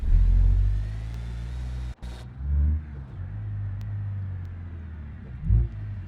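A car engine in the BeamNG driving game cranks and then catches, followed by a low idling rumble with a brief cut and a couple of revs.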